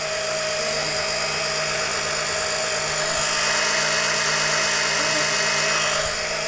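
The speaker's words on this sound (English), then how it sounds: "Alright, so it's pumping some milky oil out." A pump runs steadily while drawing milky oil out of a Kawasaki Ultra 260X jetski, giving a continuous mechanical whine and hum with a constant buzzy drone throughout, close and unbroken, with no talking.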